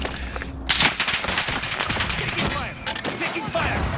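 Rapid automatic gunfire in a video game crackles in quick bursts, fairly loud and close, with brief pauses between volleys.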